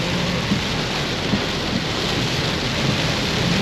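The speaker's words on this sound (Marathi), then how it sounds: "डेंजर वाला बारिश हो रहा है" Heavy rain roars steadily and densely throughout, with faint low rumbles underneath that may be distant thunder.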